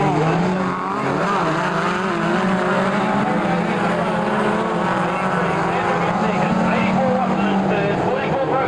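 Midget race cars thunder around Kihikihi Speedway, a dense, sustained roar of several engines with shifting pitch as the cars circle, while a commentator talks over the racket.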